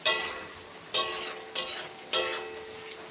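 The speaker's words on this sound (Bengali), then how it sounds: "এটা দিয়ে নেড়ে চেড়ে শাকটা দিয়ে দেবো, মানে পেঁয়াজ পাতাটা দিয়ে দেবো" Spring onion greens frying in a pan with potatoes, salt and turmeric, a bright crackling sizzle punctuated every half second or so by sharp stirring scrapes, close up and without speech.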